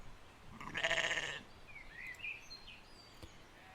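Sheep bleat once, a short loud wavering cry near the start, followed by faint bird-like chirps in a quiet outdoor field near a farm.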